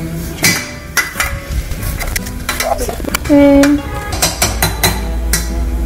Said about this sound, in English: And we will crush potato.